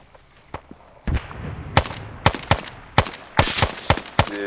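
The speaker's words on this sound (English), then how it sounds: "Yeah, I hear rockets." Rockets fired in a 1960s Argentina campaign war game: a run of sharp, loud bursts at irregular intervals, some doubled, over a low rumbling battlefield background.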